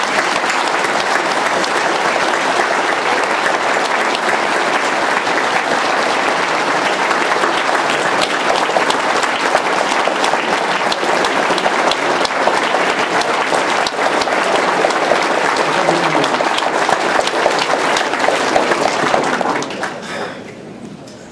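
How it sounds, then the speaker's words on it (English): Sustained loud applause from a crowd at a sheriff's press conference, steady dense clapping for about nineteen seconds before it fades away at the end. "I'd like to give them a round of applause because they've done great"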